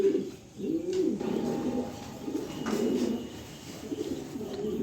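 A pair of red checker pigeons coo in soft, repeated, throaty rolls, close by and moderately loud, with a faint chirp in the background.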